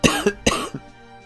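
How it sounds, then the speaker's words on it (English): A person coughs close up, two sharp harsh coughs followed by a softer third, alone with no talking. "I suffer so much with this stupid cough."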